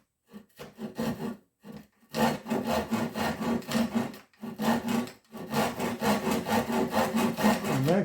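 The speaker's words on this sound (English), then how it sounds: "I'm going to try to saw right there" Hand saw cutting a wooden stick clamped on a workbench, with steady rasping strokes in short bursts that settle into a continuous rhythmic back-and-forth, close and clear with no talking.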